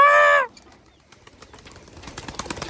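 Pigeons are released in a village. A short tonal call is followed by a brief hush, then a rising flurry of wingbeats that grows louder and more rapid.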